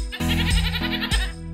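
A goat bleats in a loud, nasal, wavering call with a couple of quick breaks in the voice, close and heard alone.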